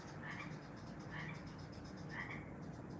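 Frogs croaking in daytime countryside: faint, repeated bursts of croaking at roughly one-second intervals, heard at a distance over steady background noise with no talking.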